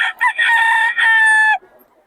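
A rooster from a Bocaue gamefowl flock crows once, loud and close, in a drawn-out call of about one and a half seconds, after a couple of short clucks, with no other sounds behind it.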